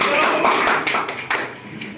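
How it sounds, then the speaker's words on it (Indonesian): Short burst of applause from a high-school physics class, clapping briefly and unevenly before fading out. "tepuk tangan buat kita semua"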